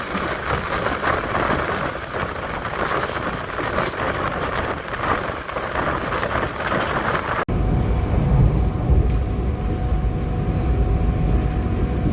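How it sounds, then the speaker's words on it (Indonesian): A loud, steady rumble of the Mutiara Selatan passenger train rolling into Madiun station, continuous and near, then shifting abruptly to a deeper, steadier engine drone. "kereta api Mutiara Selatan telah tiba di stasiun"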